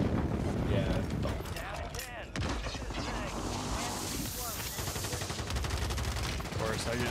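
Gunfire in the Fortnite video game crackles in dense, continuous volleys, loud and steady across the whole stretch, mixed with game noise and some voice.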